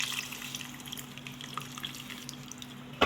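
Tamarind water poured into a pot while making fish pulusu, a faint, steady trickling and splashing of liquid that ends with a slightly louder splash, with no talk.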